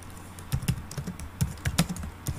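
Close, quiet clicks of typing on a computer keyboard in short uneven bursts, with no talking over them.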